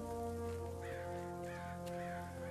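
Crows caw a few times in the Destiny video game, a handful of harsh calls spaced through a steady layered ambient background with sustained musical tones, moderately near and clear.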